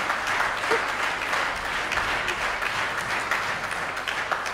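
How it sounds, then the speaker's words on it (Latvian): Sustained, dense applause from a large audience at a Christmas stage performance in Rundāle Palace, steady and full throughout with no pauses. "Šie aplausi visi ir domāti jums"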